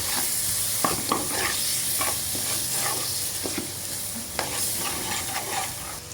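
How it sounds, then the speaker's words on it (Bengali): Meat being stirred and fried in a pan, with a steady sizzle beneath repeated scraping strokes of the utensil at an irregular pace. The sound is close, and no one speaks. "এই মাংসটা দিয়া ভালো করে আর লাড়া দিব।"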